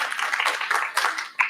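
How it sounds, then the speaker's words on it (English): A room of people applauding panelists at the close of a philanthropy panel discussion, brief clapping at moderate loudness with a final sharper burst. "I just want to really give a big round of applause to our panelists."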